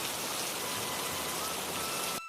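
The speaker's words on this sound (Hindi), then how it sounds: "कुछ दिनों में बारिश शुरू हो जाता है।" Cartoon rain falls over farm fields in a steady, dense hiss that continues unbroken until it cuts off abruptly near the end.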